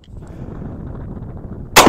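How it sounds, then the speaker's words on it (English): A shotgun fires a single sharp, loud blast at the very end, after a low rumbling outdoor background. "I'm going to take another shot and see if it prints kind of the same."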